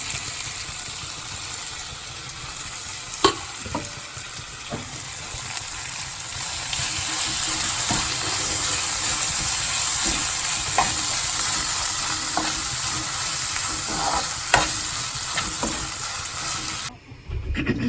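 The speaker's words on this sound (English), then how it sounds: "This is inji poondu paste, which means ginger, garlic and coriander going in." Ginger, garlic and coriander paste frying in a pan for an egg curry, a loud continuous sizzle with intermittent stirring knocks and scrapes, briefly dropping near the end.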